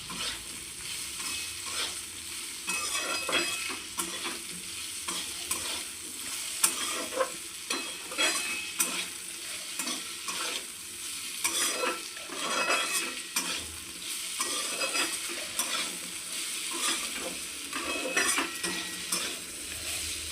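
Potato bhaji cooks in a pan with a constant soft sizzle while a spoon stirs and scrapes against the metal in frequent light clinks, close and unhurried.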